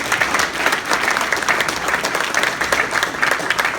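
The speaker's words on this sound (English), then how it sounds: "give a round of applause to Greg and Tana and Better Bodies Gas for also hosting this" Steady, dense applause from a crowd at a fitness convention, loud and continuous throughout with no pauses.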